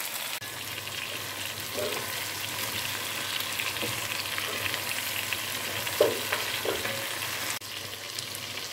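Onion, bell pepper and garlic fry steadily in a pan, a continuous close sizzle with faint stirring clicks and a brief louder scrape near the end.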